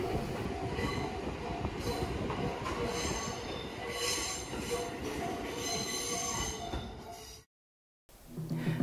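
A train on the Chichibu Railway runs through to Nagatoro Station with a loud, steady rumble of wheels and a metallic rattle that hold for about seven seconds and then cut out abruptly.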